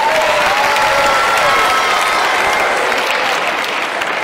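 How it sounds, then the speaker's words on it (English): A school audience at Campion School in Trichy bursts into loud, sustained applause with cheering for a young boy on stage, a thick crowd roar of clapping with a few raised voices, steady throughout. "Can you give him a big round of applause?"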